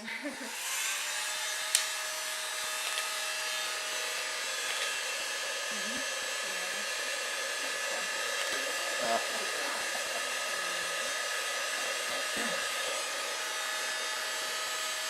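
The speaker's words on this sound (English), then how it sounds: "Use a little heat gun." A small heat gun blows steadily while drying a clay teapot, a constant airy roar lasting the whole stretch with faint handling noises underneath and a brief knock near the start.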